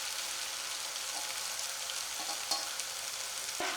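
Aval murukku dough deep-fries in hot oil with a continuous, dense, close bubbling sizzle, broken only by a couple of small knocks near the end and no talking.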